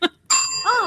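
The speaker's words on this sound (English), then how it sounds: "That gets a bell." A single bright bell ring sounds close and clear with a short lingering ring-out, right after a brief voice in a live podcast studio setting.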